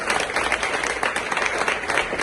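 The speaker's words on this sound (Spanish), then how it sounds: "Aplausos al Señor." Congregation applauding during a church Bible class, a continuous, fairly loud wash of many hands clapping together, with no speech over it.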